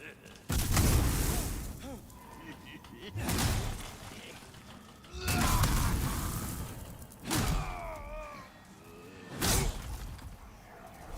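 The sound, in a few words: barrels exploding in the video game Demon's Souls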